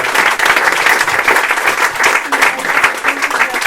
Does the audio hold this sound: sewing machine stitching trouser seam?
no